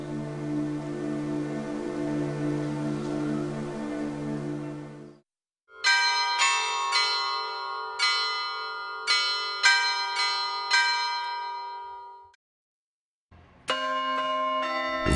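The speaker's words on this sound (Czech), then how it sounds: "Vůbec prvními mechanickými hracími strojky v pravém slova smyslu byly zvonkohry." Bright carillon bell tones ring out in a steady melodic sequence with long, shimmering decay, pausing briefly between phrases before the chiming resumes.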